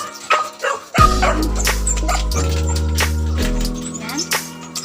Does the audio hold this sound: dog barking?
yes